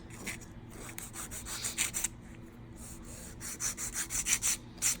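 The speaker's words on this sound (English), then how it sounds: "And I start filing straight." A hand file works straight strokes along an edge while shaping, giving bursts of close, raspy rubbing strokes in quick rhythmic runs separated by brief pauses, with no talk.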